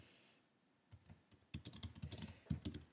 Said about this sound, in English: so I can just type over the top